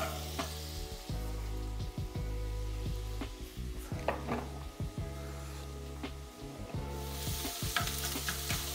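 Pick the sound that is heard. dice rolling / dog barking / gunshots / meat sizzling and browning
meat sizzling and browning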